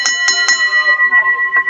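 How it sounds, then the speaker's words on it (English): Several rapid strikes of a ringing bell open a professional wrestling match, loud and close, each hit leaving a sustained metallic tone that overlaps the next. "yes, ring the bell."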